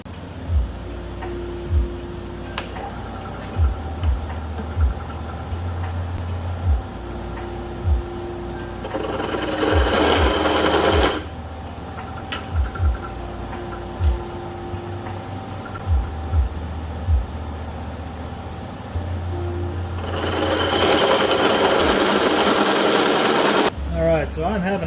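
A drill fitted with a brand new bit is run in repeated bursts on a custom 240sx traction control project, revving loudly for a few seconds at a time between quieter stretches with intermittent clicks and thuds.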